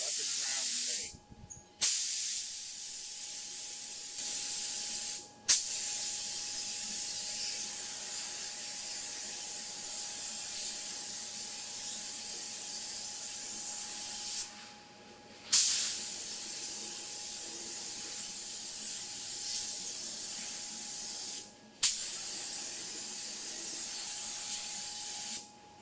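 Spray gun hissing out Sherwin-Williams black base coat onto a Pontiac Fiero GT Fastback under restoration, in long steady bursts with brief pauses between passes, with some speech present.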